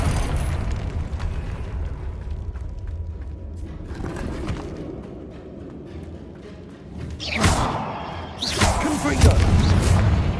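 Confringo fire spell explosions in the video game Hogwarts Legacy, heavy booming blasts with a rumbling low end, the loudest bursts erupting near the end over a continuous layer of game ambience.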